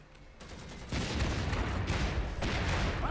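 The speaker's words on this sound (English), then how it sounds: "we're being fired upon" Gunfire from the World War I–era strategy game Iron Harvest, a steady dense fusillade of overlapping shots and rattles that swells louder after the first second and keeps going without a break.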